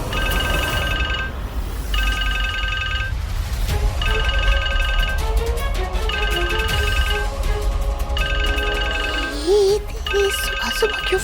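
An incoming call sets off a phone ringtone, a loud electronic melody repeating in regular bursts over a busy background with music.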